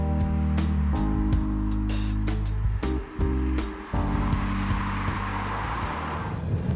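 A Peugeot 308 drives along, with a loud, steady engine and road hum that shifts in pitch several times as the car changes speed, with no talk.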